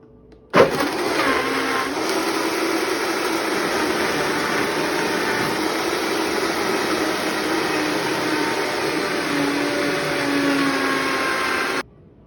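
A high-speed blender whirs steadily and loudly while blending avocado, lemon juice, spinach and seeds into a smoothie, starting abruptly and running evenly for about eleven seconds before cutting off.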